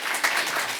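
Applause from the audience at the close of a Korean literature symposium, a steady dense patter of many hands clapping for just under a second with no voices over it.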